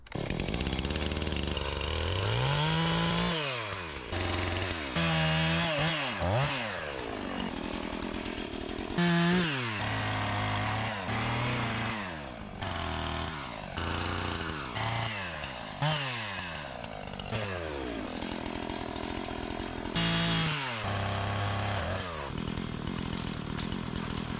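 A chainsaw trims trees while clearing land on a rural property, its engine loud and close, revving up and bogging down repeatedly as it cuts, with brief drops to idle between cuts.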